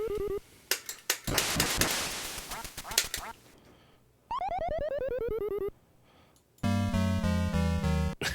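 Electronic quacking and game effects from the video game Duck Hunt, with short bursts, a noisy flapping stretch, a falling warbling tone and a chiming jingle, loud and alone without talk.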